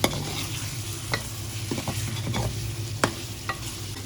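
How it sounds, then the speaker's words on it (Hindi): Salt, turmeric, chili, garam masala, coriander, pickling spice and a little fenugreek roast in a pot for degi aloo gosht, giving a steady close sizzle with occasional sharp scrapes of a stirring spoon against the metal. "तो माशाल्लाह जी, सारे मसालों की भुनाई कर लेंगे हम।"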